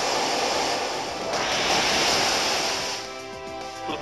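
The Waterfall attack effect from the Pokemon Omega Ruby/Alpha Sapphire video game plays as a loud, continuous rushing surge of water that swells and then eases over four seconds.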